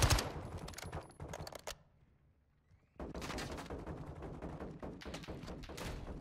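MX9 submachine gun fire in Modern Warfare 2: rapid automatic bursts crackle, then a short near-silent gap, then another sustained stretch of fast gunfire.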